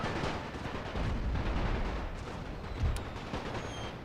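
Gunfire and artillery from units in a World War I strategy game set in Serbia, heard as a dense, continuous rumble of distant shots and booms, with a couple of louder blasts.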